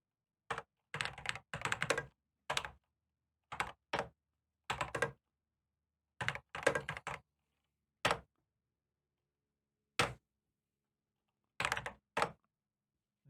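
Typing on a computer keyboard, close and clear, with quick bursts of clacking keystrokes separated by pauses and a few isolated single key presses.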